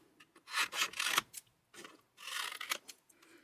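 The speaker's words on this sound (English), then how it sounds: "I'm going to just cut the excess just like that so that I can stick it properly." Scissors snip excess paper off a pop-up card piece in two bursts of close, crisp rasping cuts separated by a short pause.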